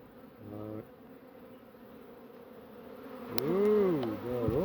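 Honeybees buzz at a beehive during a queen introduction to a queenless colony, a thin steady hum rising into a louder, wavering close buzz as a bee passes near, with a brief voice at the start.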